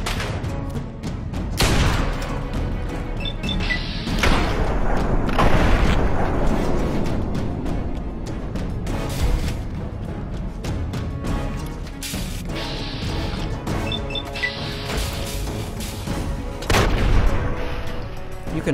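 Repeated heavy blasts from grenades and Fat Man mini-nuke launcher in the Fallout 3 wasteland, loud booming explosions with long rumbling tails, several spaced across the stretch over continuous low roar and scattered crashing debris.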